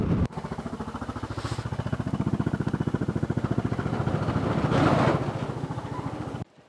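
A Suzuki S40 single-cylinder motorcycle thumps in a rapid, steady pulse close by, swelling as it pulls in, then cuts off abruptly near the end.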